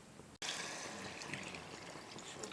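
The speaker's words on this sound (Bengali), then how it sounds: "ঈষৎ উষ্ণ জলটা আমি দিয়ে দিলাম" Warm water poured into a jackfruit and prawn curry, a steady close stream of liquid after a brief gap, running on without talk.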